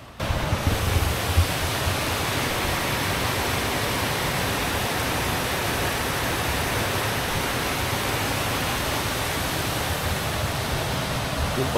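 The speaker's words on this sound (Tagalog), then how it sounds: "Pagising mo yung lumalagas-gas ng tubig ang maririnig mo." Rushing water of the Bagsit River in Palauig, Zambales, heard on a drizzly morning as a steady, dense, unbroken roar close by, with no voices over it.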